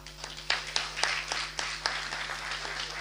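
Scattered applause breaks out at a municipal council session, a modest group clapping with several distinct sharp claps standing out over a steady low hum, fairly quiet and a little distant.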